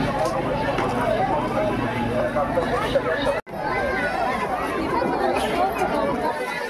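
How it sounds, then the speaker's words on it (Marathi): Dense crowd chatter at a busy, packed gathering near water, many overlapping voices in a steady loud babble with one abrupt momentary cutout partway through. "काय कचरा गर्दी आहे"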